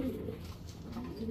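Pigeons coo softly in a low, continuous murmur with faint chirps, the pair being Shapchila Napta breed pigeons, no voices over them.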